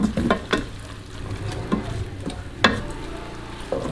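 Mustard greens stir-fried in a hot pan until wilted give off a soft, steady sizzle, with several sharp scraping stirs of a utensil against the pan, close up and with no voices.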